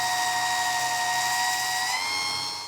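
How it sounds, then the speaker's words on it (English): An angle grinder works a 12mm brake line nut during a front brake repair, giving a steady high-pitched whine with strong tonal ringing that holds for the whole stretch and dips slightly in pitch near the end. "I think I'm going to go and visit my friend the grinder"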